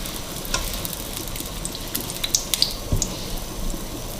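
Chicken cheese samosas frying in hot oil in a kadhai, a steady close sizzle and crackle with a few brief bubbling pops and occasional light clinks, no voices.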